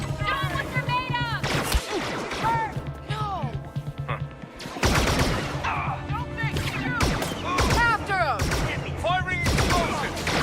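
Blaster-style gunfire and crashing explosions in Star Wars Outlaws: rapid bursts of zapping shots with descending sweeps, heavy booms at intervals, continuous chaotic combat with voices shouting amid it.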